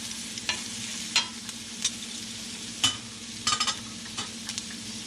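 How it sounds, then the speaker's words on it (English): Vegetables frying with steak in a hot pan for a Philly cheesesteak, a steady sizzle broken by several scraping stirs and clacks of a utensil against the pan. "add a little bit of veggies, mix it up, and we can let this cook for just a little bit longer."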